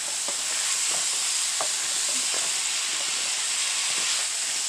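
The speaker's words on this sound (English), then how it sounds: "put the potatoes and cook it" Potatoes cook in a pan for a low-sodium Chinese-style vegetable curry, a steady loud sizzling hiss with faint scattered stirring taps throughout.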